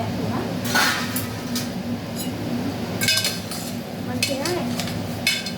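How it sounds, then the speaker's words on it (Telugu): Vermicelli (semiya) frying in a pan for payasam while a spoon stirs it, giving scraping strokes and light metallic clinks over a low, constant sizzle. "అలాగే ఇప్పుడు సేమియాలు కూడా వేస్తున్నానండి. ఇది మంచిగా ఫ్రై అవ్వాలి."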